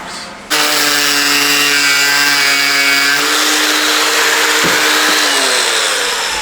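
A hand-held angle grinder whines loudly at full speed, close by and steady, with no talk over it, cutting on a Mercedes W205 while an LED diffuser is being fitted.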